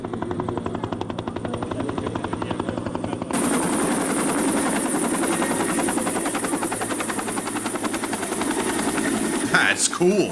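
A Kamov Ka-26 helicopter, a 1976-era crop-dusting type, taking off and flying: rapid rotor chop grows suddenly louder partway through and holds as a steady, close thrumming buzz, with a brief voice-like burst near the end.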